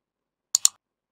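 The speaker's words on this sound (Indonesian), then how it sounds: "Saya coba pakai mouse dulu ya." A computer mouse gives two quick, crisp clicks close together in near silence.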